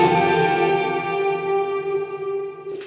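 Electric guitar run through an effects unit with heavy reverb and chorus, playing a sustained chord passage as it moves from the chorus toward the bridge of a worship song; rich ringing tones hold steadily, then briefly fade and restart near the end.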